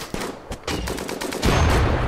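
Light machine gun fire in the video game Rimworld: rapid bursts of gunshots, sharp cracks spaced unevenly, then a denser rumbling stretch of fire toward the end, loud and without speech.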